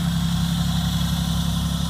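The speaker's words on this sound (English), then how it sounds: "a six-cylinder fuel injector didn't really sound good with no exhaust on it" A 1988 Oldsmobile Cutlass Ciera six-cylinder fuel-injected engine idles after a cold start at minus 22 with no exhaust fitted, a loud, steady low drone with a constant hum and rough pulsing, close and uninterrupted.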